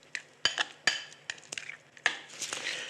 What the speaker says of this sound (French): Là, je mets de l'huile d'olive, je mélange,